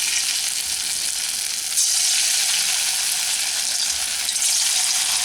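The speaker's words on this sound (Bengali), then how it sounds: "এখন আমি ছোট ছোট করে পকোড়া ভাজার জন্য দিয়ে দিচ্ছি।" Raw banana pakoras deep frying in hot refined oil give a steady, close, bright sizzle that holds at an even level throughout, with no talking.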